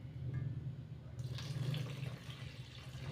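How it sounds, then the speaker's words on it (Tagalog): Water runs steadily from a tap into a pot of corn and vegetable bulanglang soup, a continuous close splashing stream with no talk. "Tas lalagyan po natin ng tubig na."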